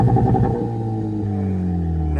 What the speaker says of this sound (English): we took the muffler off the race Kia